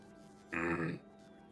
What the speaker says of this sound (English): Needed to clear my throat